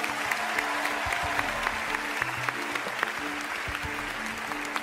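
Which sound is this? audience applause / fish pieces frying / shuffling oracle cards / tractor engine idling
audience applause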